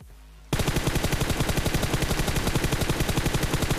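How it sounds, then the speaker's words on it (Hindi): Rapid automatic gunfire in the mobile battle-royale game PUBG Mobile, a loud steady stream of evenly spaced shots that bursts in after a brief quiet moment and keeps hammering at close range. "तो क्राउच एंड शूट कर दिया मैंने"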